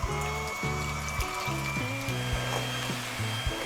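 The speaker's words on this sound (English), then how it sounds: "with an electric whisk, because it's a little bit harder, I'm going to whisk my egg whites until they're a stiff peat" Electric whisk beating egg whites to stiff peaks for a salted caramel chocolate mousse, a loud close whirring motor that keeps changing pitch as the beaters move through the bowl, with no talk.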